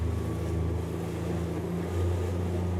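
A boat's engine drones steadily at high RPM, a loud continuous hum rising slightly in pitch near the end, mixed with wind and water noise on a run toward Crab Island on the Emerald Coast.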